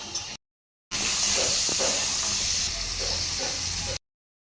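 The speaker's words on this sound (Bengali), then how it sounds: "এখন ঝিঙ্গাটাকে আমি ভেজে নেব।" Ridge gourd fries in hot mustard oil with salt and turmeric in a kadai, producing a steady close-up hissing sizzle broken by brief silent gaps.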